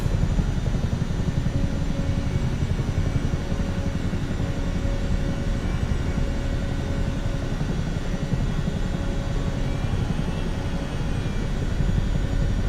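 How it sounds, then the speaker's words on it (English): A CH-47 Chinook twin-rotor helicopter in Microsoft Flight Simulator 2024 drones with a steady, loud, continuous engine and rotor roar throughout, with no break. "It's like flying a DC-3, but it's a helicopter."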